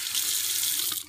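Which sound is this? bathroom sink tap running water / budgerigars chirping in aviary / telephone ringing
bathroom sink tap running water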